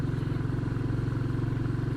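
A Royal Enfield Classic 350 single-cylinder motorcycle engine laboring up a steep hill, a steady close thumping rhythm with dense low harmonics running unbroken throughout, no voices present.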